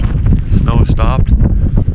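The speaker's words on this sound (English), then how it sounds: "The wind's picked up." Wind blowing steadily outdoors on frozen Lake Superior in January, a loud continuous rumble buffeting the microphone with brief gusty swells and faint rustling throughout.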